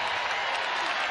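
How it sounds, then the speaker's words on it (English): A big college women's basketball arena crowd of several thousand roars after a personal foul call, a dense, sustained wall of cheering and clapping that stays loud and even throughout. "So the cheer that you're hearing is because Peely picked up her second personal foul."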